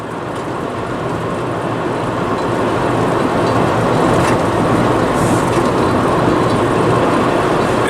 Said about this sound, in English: It sounds like metal is scraping.